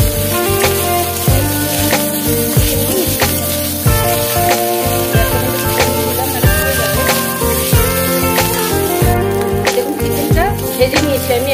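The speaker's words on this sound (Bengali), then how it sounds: "চিকেনটা একটু হালকা ভেজে নিলাম।" Chicken pieces lightly frying in a pan with ginger-garlic paste, a steady loud sizzle with stirring and scraping clatter throughout, close up and continuous.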